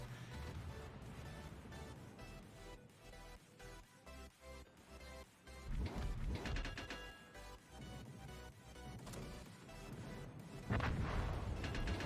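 Heavy naval gunfire from a Tier VII Commonwealth battleship firing salvos in World of Warships, a dense run of booming blasts and crashes mixed with game music, with the loudest surge near the end.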